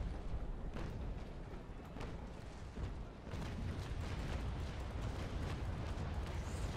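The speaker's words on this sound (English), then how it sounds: "Oh, the tower's shooting me." Fortress tower cannons fire on a sailing ship in the naval battle game Naval Action, a dense rumbling barrage of booms and blasts under continuous ship and sea noise.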